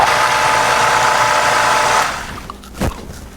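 A food processor whirs loudly and steadily while blending pesto sauce for about two seconds, then winds down, followed by a brief clunk.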